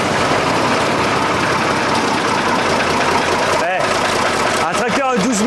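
A Ford Super Dexta 2000 tractor with 12,000 hours on it runs with a loud, steady low engine rumble and knock, close by, while voices talk over it near the end.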